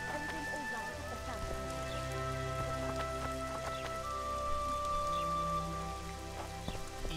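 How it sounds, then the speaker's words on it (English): Steady rain pours and patters on surfaces in The Witcher 2 town setting, a constant wash of droplets beneath a sustained musical tone and faint footsteps. "This rain."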